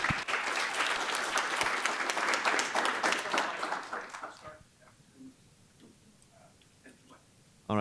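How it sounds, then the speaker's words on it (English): An audience applauds the panelists at an industrial policy discussion, a loud sustained round of clapping that fades out after about four seconds, leaving a quiet room with faint stray sounds. "let's give another round of applause for our panelists"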